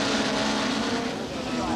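Touring cars race at around 140 mph down a straight in the 1991 British Touring Car Championship, including a Vauxhall Cavalier, with a loud, sustained engine roar under commentary throughout.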